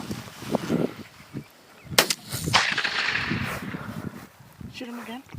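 A single sharp gunshot is fired at a turkey during a spring hunt, cracking out loudly near the start amid whispered talk and rustling, followed by a brief bird call.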